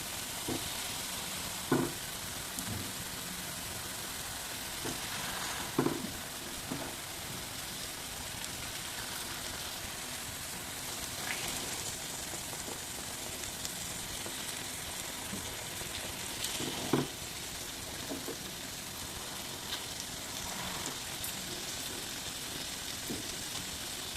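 Fish pieces frying in a pan over a low flame, a steady broad sizzle throughout with a few soft knocks and clinks from placing pieces.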